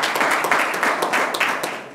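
An audience at a mayors' honoring ceremony for Black History Month bursts into applause, a dense, even wash of many hands clapping, loud and steady throughout.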